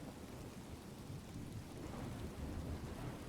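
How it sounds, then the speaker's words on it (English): Recorded rain and thunder played through a speaker, a steady dense hiss of rainfall with deep low rumbling rolling underneath, quiet and continuous with no talk. "I had my rain sounds too loud"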